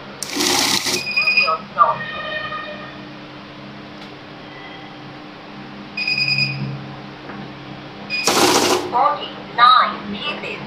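A cash counting machine with dual sensors for fake-note detection riffles through banknotes in two loud whirring bursts at the start and near the end, with quieter beeps and mechanical clicks between them.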